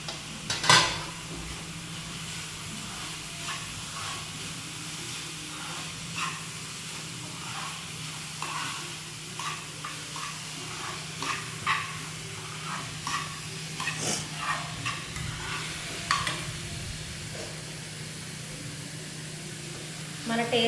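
Grated carrot stirred in a hot pan, with a metal utensil clinking and scraping against the pan over a steady low sizzle, and occasional sharper knocks throughout.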